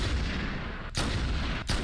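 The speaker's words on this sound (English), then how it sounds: "You can hear that other sniper dude taking pot shots at the dropship." Sniper rifle fire aimed at a dropship in the Halo video game, loud broadband blasts inside dense, continuous battle noise, with a couple of sharp shots about a second apart.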